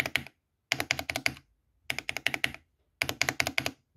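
Close, loud bursts of rapid keystrokes on a mechanical keyboard fitted with Alpaca linear and Durock T1 tactile switches without bearing balls, typed in four separate clusters with short silent gaps between them.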